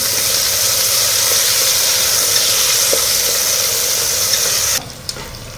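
Sliced onions fry and get stirred in a hot pan for a mutton tomato curry, a loud, steady close sizzle with faint scraping stirs that cuts off abruptly near the end.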